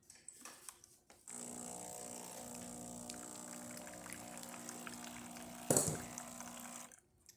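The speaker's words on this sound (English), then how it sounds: "So let's test the hot water on the top of this coffee." A Breville Barista Express dispenses hot water onto a freshly pulled espresso, a steady close-up hiss and pour with a humming pump tone, starting abruptly and running for several seconds before cutting off, with a brief louder splash near the end.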